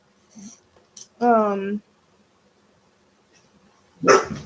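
A dog nearby lets out a single sharp, tonal bark or yelp, then stays mostly quiet before a short noisy burst at the end. Soft speech is faintly present.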